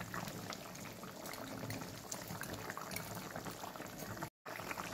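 Fish and eggplant curry boiling on high flame, a dense steady bubbling rumble close by, broken by a brief dropout near the end, no talking.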